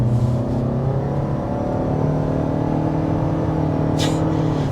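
A 2023 Toyota RAV4 accelerates with a steady, muffled engine and road drone heard from inside the cabin, rising gently in pitch, with a brief rustle near the end.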